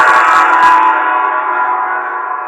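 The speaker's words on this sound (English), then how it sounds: "Next command, plays the sound of a Chinese gong." A loud metallic Chinese gong tone rings out and sustains, slowly fading with a long shimmering decay after an initial struck burst.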